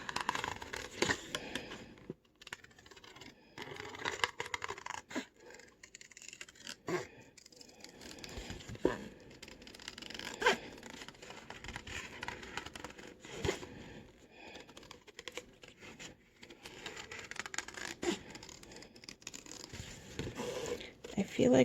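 Scissors cut paper for a fall scrapbook layout, close-up and quiet, with a run of snipping and rustling crinkles that continues for about twenty seconds.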